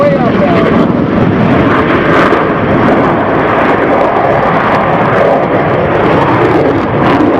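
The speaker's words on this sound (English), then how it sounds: "he's going to light those afterburners again and accelerate vertically" Loud, continuous roar of a fighter jet at an air show, broadband and sustained with slight swells as it climbs on afterburners, a commentator talking over it.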